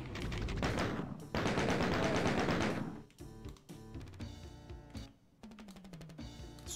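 Super shotgun blasts in Doom 2, loud gameplay gunfire with a sustained roaring burst early on, then a series of sharp, punchy shots and clattering reload-like hits over the rest.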